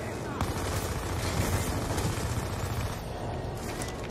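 Gunfire in the Black Ops 2 campaign: a dense, continuous rattle of rapid shots and explosive crackle that runs unbroken from start to finish.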